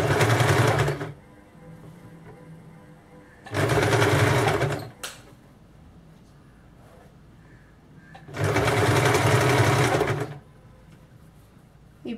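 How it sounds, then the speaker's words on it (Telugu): A sewing machine stitching back-open blouse fabric runs in three loud, rapid whirring bursts, each one to two seconds long, separated by quieter pauses with faint handling noise. "Okay, stitch this fabric with little stretch."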